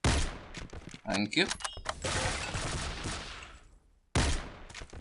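Gunfire in the video game Chemical Existence remod, a rapid series of sharp reports and thuds, loud and close, mixed with game noise and a brief spoken voice.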